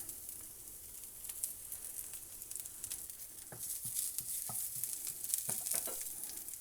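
Chili flakes and garlic sizzle steadily in hot oil on a stovetop, a close, continuous hiss with scattered pops and the occasional scrape of stirring, no voices.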